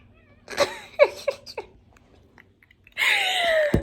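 A house cat gives several short meows in a row, then a longer drawn-out yowl after a pause, close to the microphone in a quiet room.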